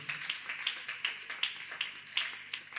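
A church congregation claps for Jesus in a steady rhythmic beat, a quick run of sharp, fairly distant claps with no talking over it.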